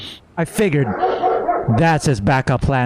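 Dogs bark and yip in short bursts close by, mixed in with someone talking over them in a gaming setup.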